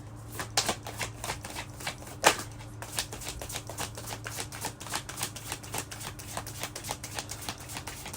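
A deck of moon oracle cards being shuffled by hand, a close, steady run of crisp riffling flicks and soft card slaps, with a couple of sharper snaps early on and no talk.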